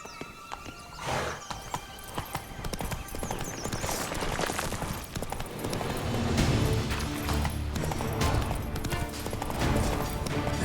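Horse hooves gallop steadily in The Witcher 3, a continuous rhythmic clip-clop with a brief whinny near the start, fairly loud over a dense game soundscape of music and ambience.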